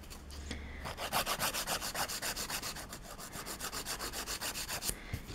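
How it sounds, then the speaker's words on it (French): A coarse-grit nail file rasps back and forth across UV gel nails while shaping the sides into a ballerina form, a fast steady scratching stroke close up, quiet and unbroken with no voices. "je viens bien limer mes parallèles pour qu'ils soient vraiment en forme de ballerine"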